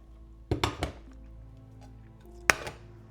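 A pancake lands on a plate with a few soft clinks and taps of crockery near the start, then one sharp clink a moment later, all close and fairly quiet.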